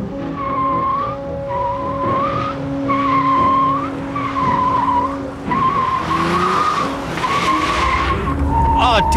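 Tires squeal repeatedly in rising and falling bursts as a car corners hard, over a steady engine drone, ending in a louder, rougher screech.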